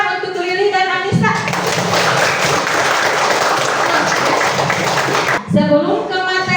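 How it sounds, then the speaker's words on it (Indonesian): A sixth-grade class claps together for several seconds, a steady burst of hand claps in a classroom, with a teacher's voice speaking just before and after. "tepuk tangan untuk Lili dan Anissa."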